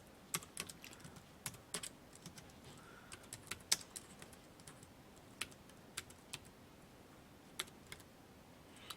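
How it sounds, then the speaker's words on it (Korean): Computer keyboard typing, quiet and steady, with scattered sharper key clicks over a low background hiss. "그대로 타이핑 치겠습니다."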